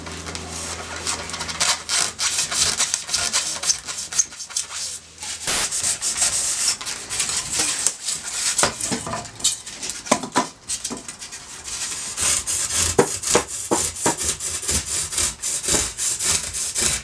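Hand saw cutting through wood to shape a homemade tombstone, steady rasping strokes running nearly continuously and close, with short pauses between bursts and no talking.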